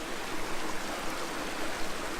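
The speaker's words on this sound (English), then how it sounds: "just at the bottom of this mountain there's quite an impressive mini waterfall" Steady, hissing rush of a small mountain waterfall cascade at the foot of Pen y Fan in Wales, a broad continuous wash of falling water with no voices.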